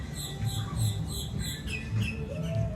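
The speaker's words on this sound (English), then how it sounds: "you can hear them little tweets" Small birds in a parking lot at Disney Springs chirp in short, high tweets scattered over a faint outdoor hum, light and somewhat distant.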